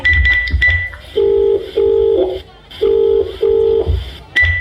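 A telephone ring tone sounds in two paired bursts, with a few brief electronic beeps before and after.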